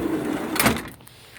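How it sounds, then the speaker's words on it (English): A door on a 2010 GO-4 Interceptor III vehicle thuds shut once, a short, fairly loud close at arm's length against a steady low background hum. "Both doors work."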